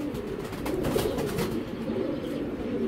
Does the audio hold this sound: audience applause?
no